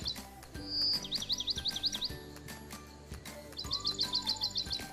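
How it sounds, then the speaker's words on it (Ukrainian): Small winter forest birds chirp in quick repeated trills, two clear bursts of rapid high notes over a soft, steady background hum. "Так це ж птахи зимового лісу."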